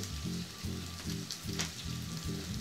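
Fennel sizzling in a warm pan, a soft steady frying hiss with a repeating low pulsing sound beneath, fairly quiet and close.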